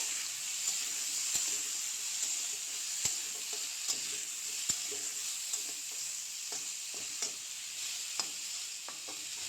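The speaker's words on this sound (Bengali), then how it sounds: "দিয়ে দিলাম কালারের জন্য অল্প করে হলুদ গুঁড়ো, দিয়ে ভালোভাবে নাড়াচাড়া করব।" Hog plums with turmeric powder are stirred in a hot pan, giving a steady soft sizzle close by with frequent scraping clicks of the spoon at an irregular rhythm.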